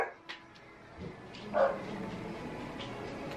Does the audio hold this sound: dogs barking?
yes